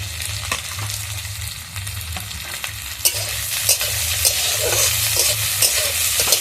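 Prawns frying in a pan with pumpkin greens, papaya and jackfruit seeds give a constant close sizzle, with clacks of a spatula stirring throughout and no speech.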